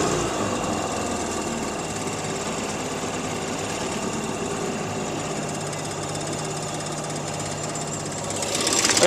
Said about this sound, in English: Look at this machine here, 3 horsepower.